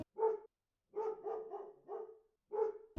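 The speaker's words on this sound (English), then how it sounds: "There comes my dog." A small dog barks indoors, close and fairly loud, in several short bursts with a quick cluster of yaps in the middle and pauses between them.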